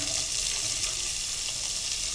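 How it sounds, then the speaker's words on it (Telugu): Chopped onions frying in a pan with cumin, mustard seeds and dried red chilies for an onion besan fry, giving a steady close hiss and sizzle with no talk. "ఆనియన్స్ చిన్నగా చాప్ చేసేసి వాటిని ఫ్రై చేసేసుకోవాలి"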